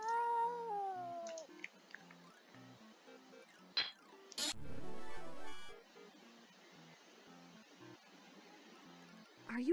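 A cat meows and caterwauls in the King's Quest 7 video game, a few drawn-out cries at the start and end with clicks and a sharp game effect between them, fairly faint.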